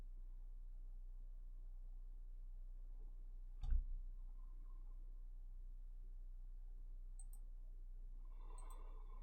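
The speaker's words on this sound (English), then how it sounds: "moving your mouse around and clicking all the time" A single sharp computer mouse click stands out midway through an otherwise quiet stretch, over a low, constant electrical hum.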